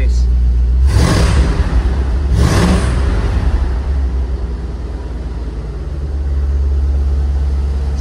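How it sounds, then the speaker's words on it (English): A 1967 Ford F100 truck with a short side-exit exhaust rumbles loudly at idle, then blips the throttle twice into sharp, roaring revs before easing back to a deep, steady burble, up close; a voice may be faintly present under the engine. "Side exit exhaust down there. So a nice short exhaust, that's hence why it's so loud."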